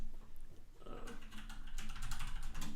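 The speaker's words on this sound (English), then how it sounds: "it's a very loud keyboard. Yeah, I know it's mechanical." Rapid typing on a loud mechanical keyboard gives a dense, clattering run of close keystrokes that grows busier toward the end, with no voices over it.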